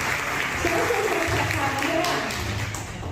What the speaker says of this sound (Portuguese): Vamos aplaudir o pastor.